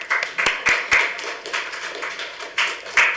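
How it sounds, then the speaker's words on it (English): Scattered clapping from a small audience at a city council special meeting, a handful of distinct sharp claps spread unevenly across a few seconds in a quiet room. "New rule, clapping after each one."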